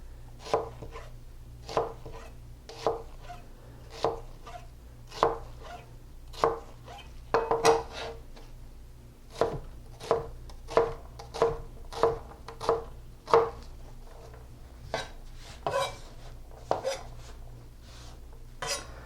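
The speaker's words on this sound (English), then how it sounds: "This is the right way to cut up your onion, guys." A knife chops onion on a cutting board for Texas red chili, a steady series of sharp, close knocks at roughly even spacing with brief pauses, heard alone without talk.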